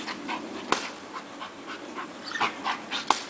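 A young female dog, Annie Oakley, about ten months old, pants softly and rhythmically in short quick breaths during a training session, with a few faint whimpers and no bark.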